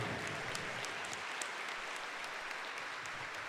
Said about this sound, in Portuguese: Tem uma salva de palmas, gente, tenha dó.